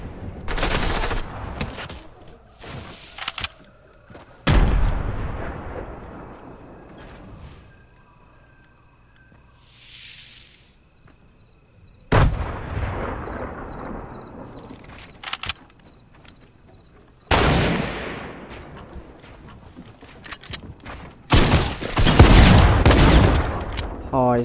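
Gunfire in the Fortnite Battle Royale video game comes in loud, sharp bursts of shots and rapid fusillades, broken by quieter gaps with game sounds between them.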